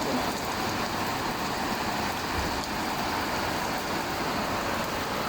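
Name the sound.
heavy rain in UAE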